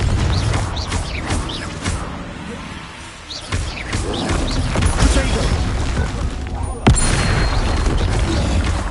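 Confringo fire spell going off during a troll fight in Hogwarts Legacy, a loud booming blast with crackling debris and a sharp burst near the end, layered with game effects and voices.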